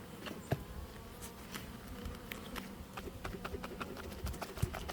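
Honeybees buzz in a steady drone after being shaken in a jar of powdered sugar for a winter varroa test, with scattered taps and knocks over the hum.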